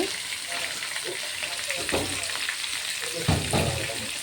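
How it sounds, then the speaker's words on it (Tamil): Round slices of radish frying in hot oil with onion, tomato and curry leaves: a steady, close sizzle runs throughout, with occasional stirring scrapes and clatters in the pan. "நம்ம குட்டி குட்டியாக ரவுண்ட் ரவுண்டாக கட் பண்ணி வச்சுருக்கிற முள்ளங்கி சேர்த்துக்கலாங்க"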